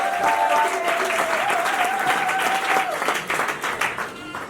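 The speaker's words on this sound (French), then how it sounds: "Est-ce qu'on peut célébrer Jésus par des acclamations?" Loud applause and cheering from a large church congregation, steady throughout, with a sustained sung or shouted tone over the clapping early on, tapering slightly at the end.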